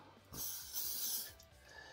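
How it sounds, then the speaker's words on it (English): A short burst of hairspray misted onto a synthetic lace front wig, a soft hissing spray lasting about a second, close and fairly quiet. "So you want to finish it, put a little bit of spray right here."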